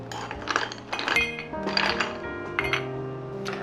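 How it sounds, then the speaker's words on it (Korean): Ice cubes clink and rattle into a cocktail glass for a home-made soju cocktail, a run of bright glassy chinks and pings in quick irregular bursts, close and fairly loud, with a low background tone underneath. "얼음을 채워줍니다."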